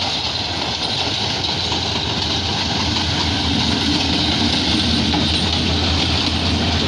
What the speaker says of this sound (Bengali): কাঙ্ক্ষিত ট্রেনটি কিন্তু কুরাশাল প্ল্যাটফর্মে প্রবেশ করলো, দেখা যাচ্ছে।